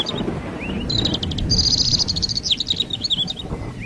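Several birds chirp and trill loudly together in a fast, overlapping chorus of high calls over a dense low rumble of background noise, with no voices.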